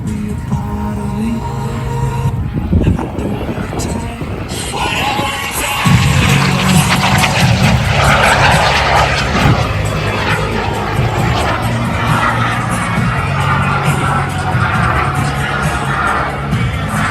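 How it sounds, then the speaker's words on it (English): A jet flies past at the Wings Over Cowtown airshow at NAS JRB Fort Worth during a low repositioning pass, with a loud, roaring engine sweep that builds and holds. Crowd noise and an announcer's voice sit underneath. "He's going to reposition the jet one more time and bring it back for the double bump."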